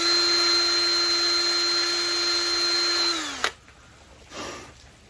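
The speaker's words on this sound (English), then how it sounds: "use a little bit smaller drill bit and drill over to the side a little bit" A loud, steady high-pitched whine of a power drill running continuously while drilling near a chrome bezel in an Audi B6 A4, then winding down and stopping, followed by a brief quiet rustle.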